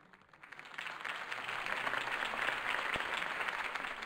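A crowd applauds a campaign speech in Batman: The Telltale Series video game, a dense wash of clapping that swells and holds throughout without pause.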